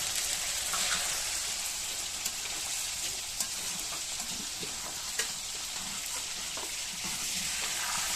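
Noodles and egg frying in a pan with beef, a steady dense sizzle and crackle running throughout, close and continuous with occasional faint stirring ticks and no voices.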